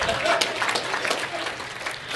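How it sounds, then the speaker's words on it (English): An audience claps in a steady, dense burst that fills the whole stretch, with faint murmuring voices mixed under the applause. "Clap to that. Yeah, get some clapping going on."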